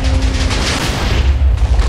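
Explosion in the video game Minecraft, a loud deep rumbling boom that fills the whole moment, close and heavy with no talk over it.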